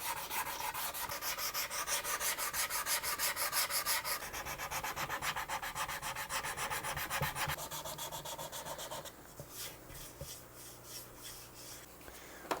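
Hand sanding of a wooden guitar body gives a loud, steady back-and-forth rasp in quick regular strokes, with the scratchy rhythm changing texture partway through and easing toward the end; no one speaks.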